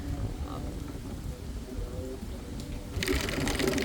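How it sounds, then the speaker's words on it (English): Rain keeps falling the day after Hurricane Milton, a steady broadband patter that grows louder and hissier toward the end, heard up close with no voices. "even though it's still raining out here right now"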